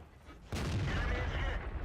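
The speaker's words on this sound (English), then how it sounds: "The artillery smashed one down onto his friend." In World of Tanks, an artillery shell slams into a tank: a sudden heavy blast bursts out of a quiet background and rolls on as a rumbling crash for over a second.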